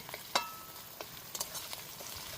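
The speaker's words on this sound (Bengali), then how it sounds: "রসুনটা কড়াইতে দিয়ে দিলাম রসুনটা ফার্স্টে একটু ভিজে নেব" Gentle sizzling of garlic frying in a wok, broken by a few scraping stirs and light clinks.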